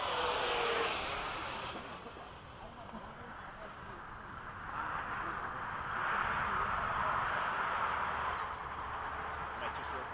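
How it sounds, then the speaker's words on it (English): An F-16 jet flies slowly close overhead, its broad engine roar rising and falling steadily with a faint high whine, while people talk quietly nearby. "It's amazing how that big planes will fly slow like that."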